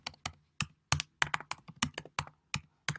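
Quick, irregular keystrokes on a computer keyboard, close and crisp, sharp clicks with short gaps between them and no voices.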